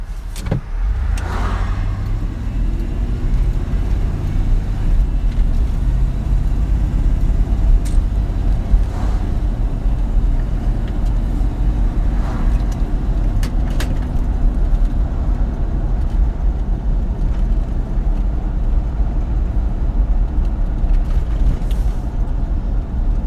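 A truck drives along a road with a steady low engine rumble and road noise heard from inside the cab, constant throughout with a few faint clicks and rattles.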